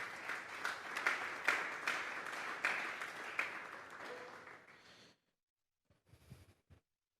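A church congregation claps during a Sunday afternoon service. Dense applause holds for about five seconds, thins out and stops abruptly, followed by silence and a brief faint shuffle.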